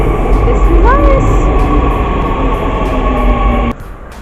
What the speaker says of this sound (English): So right now we're in the subway station, hopefully getting on the right train.